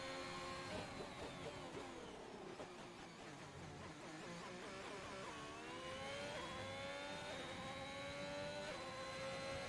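In a racing video game, a race car engine on a flying lap screams steadily with rising and falling revs through gear changes, loud and continuous with no voices.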